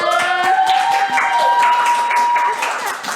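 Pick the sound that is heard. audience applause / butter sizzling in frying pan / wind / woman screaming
audience applause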